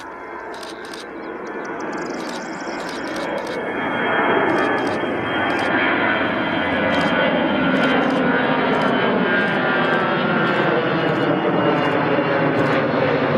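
A Swiss Airbus A321 airliner passes overhead at an airport, its engine roar rising and holding loud and steady throughout, with faint higher-pitched clicks from nearby equipment on top.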